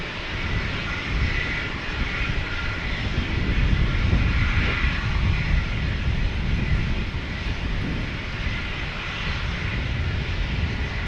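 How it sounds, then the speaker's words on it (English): A Boeing 757-300 airliner passes over a San Diego plane-spotting location, its jet engines producing a loud, steady, broadband roar that holds throughout and swells slightly near the middle. "I knew I heard a 757. I knew I heard those engines."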